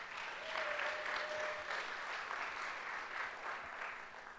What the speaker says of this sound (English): let's give our panel members a round of applause